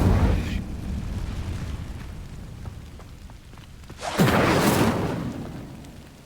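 Incendio fire spell cast in Hogwarts Legacy, a roaring whooshing burst of flame that swells up sharply and holds for about a second before dying back into a low rumbling background.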